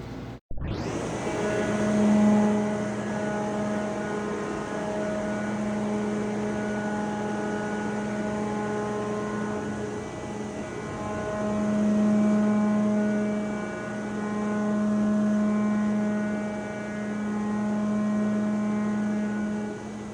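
A ship's number 1 steering gear pump starts abruptly and runs with a steady, droning mechanical hum full of sustained tones. It swells gently in level now and then, close and continuous, with no voices.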